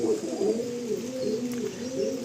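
A pair of Khulsira pigeons in a loft coo steadily in low, rolling phrases, close and fairly soft, with no voices.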